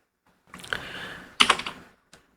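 Keystrokes on a computer keyboard while entering AutoCAD commands, a quick burst of clicks followed by a sharper cluster of taps like pressing Enter, then one faint final tap, with no voice.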